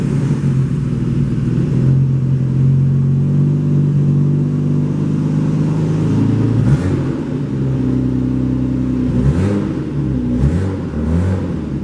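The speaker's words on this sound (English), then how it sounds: "I'm pulling the Subaru so we can wash it" A Subaru WRX engine idles and revs as the car is moved at close range, with a steady low rumble, rising and falling revs, and tonal shifts as it pulls along.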